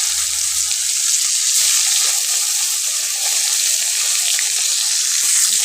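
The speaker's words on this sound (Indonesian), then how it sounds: "Goreng tempe." Tempeh fries in a pan of hot oil, giving a steady close hiss and crackle that holds at an even loudness throughout with no talking.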